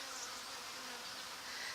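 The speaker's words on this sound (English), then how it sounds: "Yay, I have bees." Bees buzz steadily at a bee feeder set among fruit trees, a soft, continuous, close hum with no talk.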